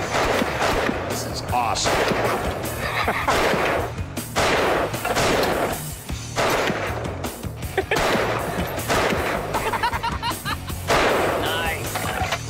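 A rare Nepalese machine gun fires in repeated bursts outdoors, loud sharp cracks separated by short pauses, with people talking and reacting between the volleys.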